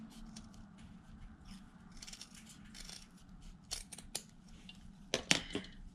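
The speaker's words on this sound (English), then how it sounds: "you can always trim it with a pair of scissors" Small scissors snip at miniature 1:12 scale cardboard sled runners in a series of quiet, irregular cuts, with a few sharper clicks near the end, close up on a quiet table.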